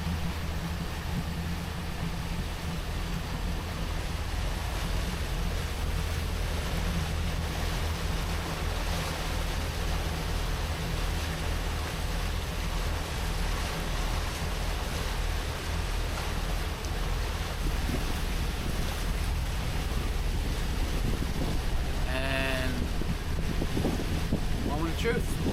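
A twin-engine boat runs up on plane through thick fog, its engines a low steady drone beneath broad wind and water rush that fill the whole stretch, with a brief rising tonal sweep near the end.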